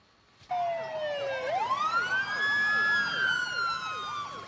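A regional ambulance siren close and loud, starting abruptly with a long rising wail that switches into fast repeating yelps, continuing alone without voices.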